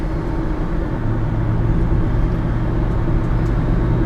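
Steady engine drone from inside a 2001 Honda Odyssey with a failing transmission as it pulls through the gears, a loud continuous low rumble with road noise and no talking.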